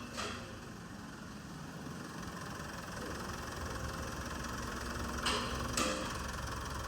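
A Mitsubishi Montero Sport with the 4D56 diesel engine idling after an oil change, a steady, low, even rumble running throughout at moderate distance, with a couple of brief clicks near the end.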